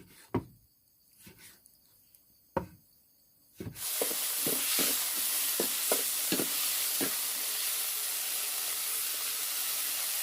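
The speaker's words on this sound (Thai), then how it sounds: "ผัดเนื้อกับกระเทียมไปก่อนนะครับ" Beef and garlic stir-frying in a pan: after a few sharp knocks, a steady loud sizzle takes over, with spatula taps and scrapes clicking through the hiss.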